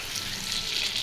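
Potatoes added to a pan with beef sizzle in a steady, close hiss of frying oil that lasts the whole moment without pause.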